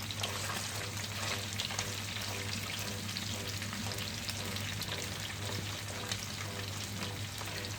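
Corn-flour-coated fresh fish, palamut or whiting, frying in a pan of hot oil, a steady dense sizzle and crackle running continuously and close without pause.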